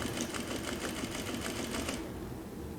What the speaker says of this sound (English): let you actually sew with a 90 weight thread on your DDL 8700